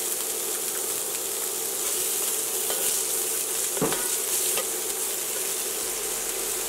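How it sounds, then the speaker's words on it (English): Minced onion sizzles in olive oil in a pan under a steady bright hiss, with a few soft scrapes as it is stirred, close and continuous without talking. "I'm going to give it a good stir and let it become translucent."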